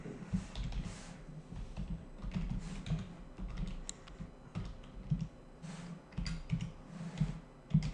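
Typing on a computer keyboard while writing code, a quiet run of irregular key clicks in bursts with short pauses, close and alone without speech.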